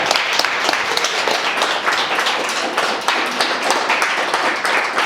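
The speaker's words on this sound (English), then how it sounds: "So let's clap it up for brother." An audience claps together after a talk on budgeting to pay off debt, a loud, dense burst of clapping sustained evenly across the whole stretch.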